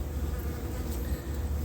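Honeybees at an opened hive hum steadily, a close, continuous low buzz from the colony that swells slightly now and then, with no talking.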